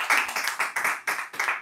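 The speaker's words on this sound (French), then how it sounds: "Applaudissons pour Jésus." A church congregation claps together in a Sunday service, about six loud, evenly spaced beats in quick rhythmic unison with no voices over them.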